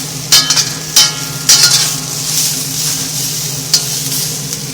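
Onions sizzle in a wok over high heat on an electric stove, a steady frying hiss broken by several sharp scraping stirs, close and loud, with no talking.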